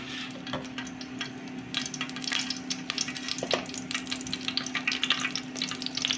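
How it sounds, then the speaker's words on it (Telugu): Cumin seeds crackle in hot oil at the start of a bhindi (okra) curry, a bright, close sizzle of rapid pops that grows busier over the seconds, with a faint steady hum behind it and no talking. "నూనె కొంచెం వేడెక్కాక జీలకర్ర వేసుకుందామండి"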